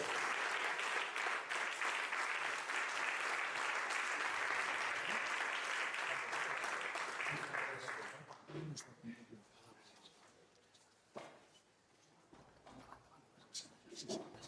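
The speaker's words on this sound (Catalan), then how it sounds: "Un aplaudiment molt fort." Loud, dense audience applause fills a celebration gathering for several seconds, then thins out into scattered claps and murmuring voices as the room quiets.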